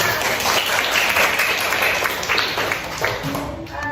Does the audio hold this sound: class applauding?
yes